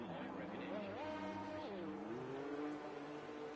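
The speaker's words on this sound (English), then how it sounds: "As I hear the first cars leaving the garages" Formula 2 race cars in a racing video game rolling out of the pit garages, a steady engine drone with pitch rising and falling as they accelerate, blended under constant background noise.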